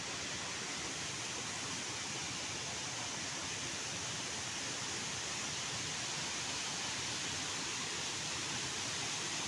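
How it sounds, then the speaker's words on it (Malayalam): Pathikund waterfall roars in a steady, dense wash of falling water, loud and unbroken throughout with no other sounds standing out. "ഇതാണ് പാത്തിക്കുണ്ട് വെള്ളച്ചാട്ടം."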